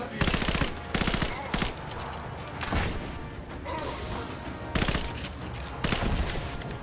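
Combat in Rise of the Tomb Raider, with rapid bursts of gunfire and blasts in loud, repeated volleys and short gaps between them, a dense and chaotic game soundscape.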